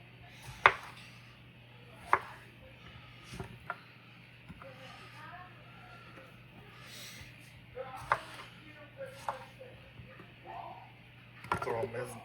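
Several sharp knife chops through tomatoes land on a cutting board at irregular intervals, with quieter rustling and handling sounds in between; close and moderately loud.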